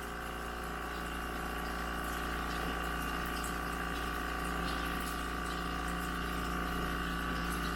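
Hot water flows steadily from a Joolca HOTTAP v2 portable water heater, a constant rushing spray over the pump's low, even hum, close and unbroken throughout.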